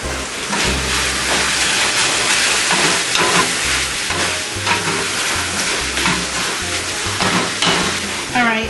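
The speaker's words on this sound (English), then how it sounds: "let's go over and stir our meat again" Taco meat frying in a pan is stirred, giving a loud, continuous sizzle with scraping, close up, with music playing underneath.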